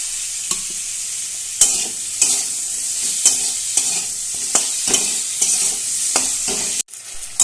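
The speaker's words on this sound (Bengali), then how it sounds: "এবার ভালো করে মিশিয়ে নিচ্ছি" Ginger-garlic paste stirred into a hot pan, a loud close sizzle broken by regular spatula scrapes roughly every half second to second, ending in a sudden cutoff.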